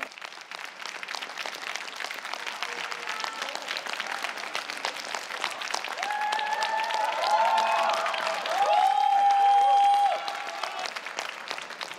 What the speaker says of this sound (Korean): 많은 박수갈채가 쏟아지고 있는데요